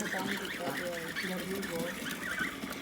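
Several ducks quack and honk in a busy, overlapping chorus nearby, with a faint voice briefly under the noise.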